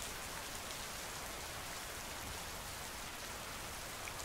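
Steady rain falls in a dense, even hiss, close and constant throughout, with no voices or other sounds.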